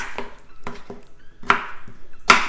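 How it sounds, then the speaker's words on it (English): A knife chops potatoes into small cubes on a board: about six sharp, irregular cuts close by, with quiet gaps between and the last strokes loudest. "the first thing we're gonna do is chop the potatoes because we are going to actually boil them"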